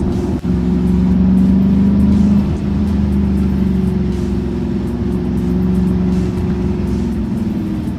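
An Audi SQ7 with a V8 TDI diesel engine pulls hard under acceleration at a quattro driving event, a loud, sustained deep engine drone that holds steady, with a brief dip early on, close to the microphone.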